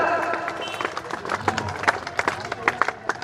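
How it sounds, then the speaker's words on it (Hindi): A crowd at a village political rally of the Suheldev Bharatiya Samaj Party claps to welcome a guest, the scattered claps coming through over an amplified voice and crowd murmur from the stage. "जोरदार ताली लगा आप लोग स्वागत करें विनोद भैया का"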